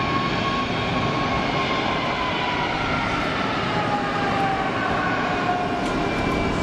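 Jet airliner engines spool up at Geneva Airport, a steady, loud broadband roar holding throughout with faint tonal whine, no voices.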